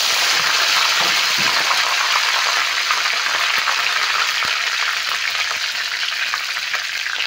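Bay leaves fry in hot refined oil with a steady, loud, bright sizzle that hisses without a break, with a few faint clinks of stirring and no talking.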